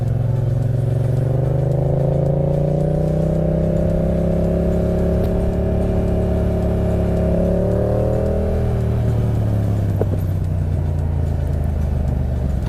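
A Yamaha FZ-07 motorcycle engine runs steadily at close range while riding, its droning tone rising slightly and then shifting pitch partway through as the bike changes speed, with no talking over it.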